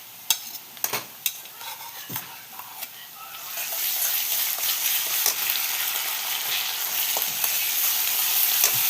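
Ginger-garlic paste fries with browned onions as a spoon clacks and scrapes the pan several times, then a louder steady sizzle builds and holds to the end.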